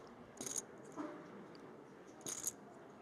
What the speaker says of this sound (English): That chip shuffling ASMR is going to put me to sleep.